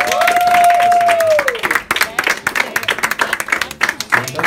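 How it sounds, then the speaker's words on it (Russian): Stormy applause and clapping from a crowd at a club opening ribbon-cutting, loud and close with irregular sharp claps, following a sustained tone that fades out. "под ваши бурные аплодисменты"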